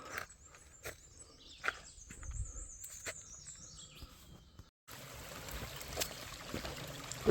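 A small stream trickles at a water source beside a wooded hiking trail, a soft continuous wash with occasional bird calls and a few footsteps nearby, growing slightly louder toward the end.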